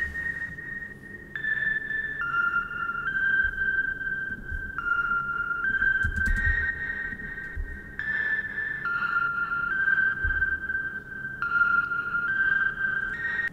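A Juno-style synth stab preset for UK garage plays a looping pattern of bright, sustained chord stabs that shift pitch every second or so, with a faint low thump beneath and no talking.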